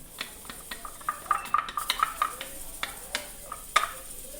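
Ghee going into a wok for kadha prasad halwa, heard as a run of light metallic clinks and scrapes of a spoon against the pan, close and fairly quiet, with no steady sizzle.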